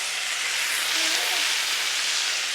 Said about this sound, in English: So we got lentils, spices, onions, tomato, fresh ginger, all in the pan getting hot